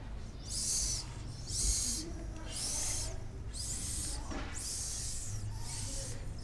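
Children softly imitate a snake's hiss, six short, breathy hissing bursts in an even rhythm, with quiet background room noise between them.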